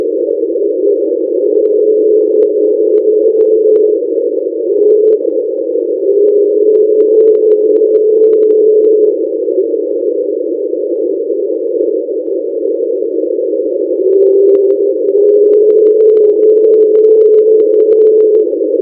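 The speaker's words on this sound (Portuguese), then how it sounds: "Esse som possivelmente veio de uma grande montanha de gelo em contato com o fundo marinho no Mar de Ross, na Antártida." Underwater hydrophone recording of a large iceberg grinding against the seafloor in the Ross Sea, Antarctica: a loud, steady droning hum whose pitch glides slowly up and down, continuing unbroken for nearly twenty seconds.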